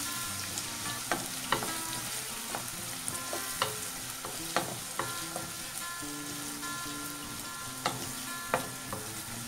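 Mango pickle ingredients frying in a pan make a continuous soft sizzle, punctuated by repeated light spoon knocks and scrapes against the pan at irregular intervals.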